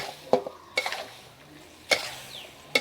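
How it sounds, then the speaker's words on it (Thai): Squid being stir-fried in a pan for a spicy curry-paste dish with pickled bamboo shoots: a few sharp spatula scrapes and clinks against the pan over a faint sizzle, sparse and close, with no talking. "เราไม่ต้องผัดนานนะครับเพราะว่าปลาหมึกเนี่ย โดนไฟแป๊บเดียวก็สุกแล้วนะครับผม"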